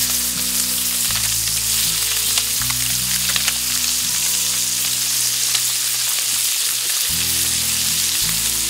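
Mayan cichlid fillets sizzle in a pan of white wine lemon butter sauce, a steady, close, loud frying crackle with faint low musical tones beneath it.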